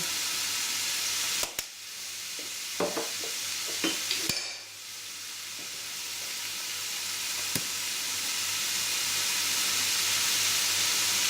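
Ground beef cooks in a pan for a stuffed bell pepper dish, sending up a steady loud sizzle and hiss. A few sharp clicks and stirring scrapes break through early on, and no one speaks.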